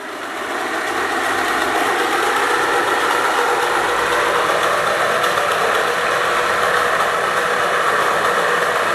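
A small electric DC motor runs at about 500 RPM under IoT speed control, giving a steady, even whirring hum with a faint buzz that holds level throughout, close by and with no talking.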